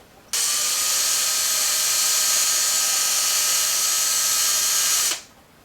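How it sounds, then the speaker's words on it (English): A power drill whirs steadily at high speed for about five seconds, backing out long bolts from a lithium iron phosphate battery, starting and stopping abruptly, close and loud with no talking. "So I used a drill to back them out because it was a lot quicker."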